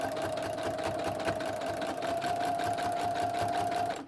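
A sewing machine stitches quilt binding with a steady, rapid mechanical whir and a fast needle rhythm, close and continuous throughout, without speech.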